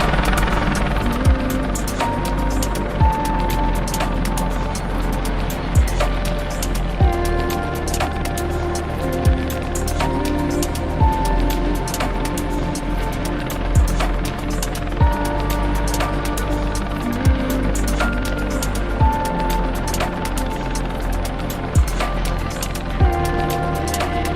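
Helicopter working over forest in Hagfors, Värmland, Sweden, cutting treetops: a steady, loud rotor drone runs throughout, with sharp periodic thuds recurring every few seconds on top of the continuous engine hum.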